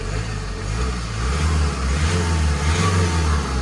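A car engine with a Stage 1 tune revs and drones close by, a deep rumbling tone rising and falling in pitch throughout with no talking.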